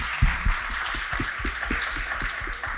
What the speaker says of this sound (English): So you can give her a warm round of applause.